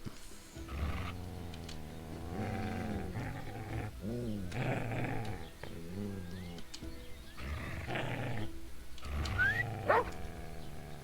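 A dog in the medieval video game Kingdom Come: Deliverance II growls and snarls in repeated rough bursts, close and fairly loud, with a few sharper yelps near the end.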